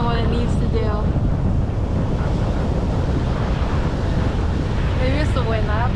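Steady wind blowing outdoors at sunset in St. Petersburg, Florida, with surf washing in the background; a continuous, close rush of wind buffeting the microphone throughout, with a person talking over it at the start and end.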